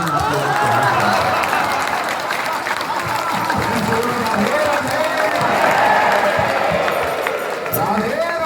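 A crowd at a religious discourse claps together in sustained, dense applause, loud and close, mixed with cheering voices and talk from the gathering.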